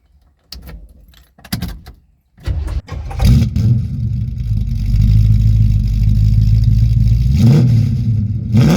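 A few clicks and a cranking starter, then the V8 engine of a 1979 Camaro Z28 with 3-inch Violator exhaust roars to life and settles into a loud, rumbling idle with a brief rev.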